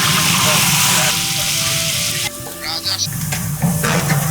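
Loud sizzling and bubbling in a pan as fried fish is stirred into simmering curry, with a brief voice in the background and scraping sounds.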